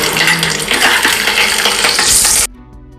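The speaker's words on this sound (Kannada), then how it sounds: "ಈಗ ಸ್ವಲ್ಪ ಪ್ಯಾನ್ಗೆ ಎಣ್ಣೆ ಹಾಕ್ಕೊಂಡು ಕಡಲೆ ಬೀಜನ ಫಸ್ಟ್ ಫ್ರೈ ಮಾಡ್ಕೊತೀನಿ" Peanuts fry in oil in a pan with a loud, close sizzle and scraping stirring clatter, then cut off abruptly near the end.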